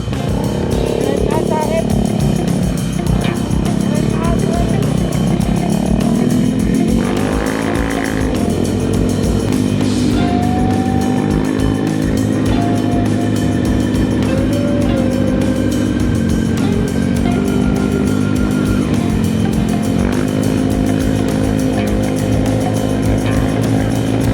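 Cars and motorcycles roar past in a steady stream, engines droning and rising as they pass close by, with a crowd and voices mixed in throughout.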